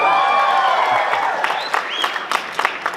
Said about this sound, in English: You're supposed to like cheer here or something.